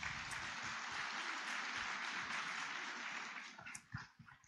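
Audience applause at a literary festival conversation in Bhutan, a dense steady wash of clapping hands that holds evenly for several seconds, then thins out and breaks into scattered final claps as it dies down.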